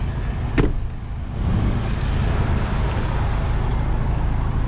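A Kia Sorento MX5 engine idles with a smooth, low, steady rumble, broken only by a brief click near the beginning.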